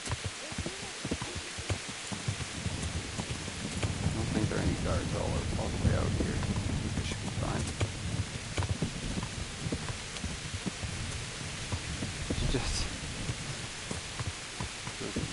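Steady rain falls in the video game Kingdom Come during Hardcore Mode, a continuous broadband wash with low rumbles, running under a man's nearby speech throughout.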